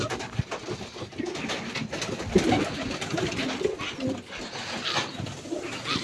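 Doves cooing near a home, several soft repeated coos rising over quiet outdoor background noise, moderately close, with no speech.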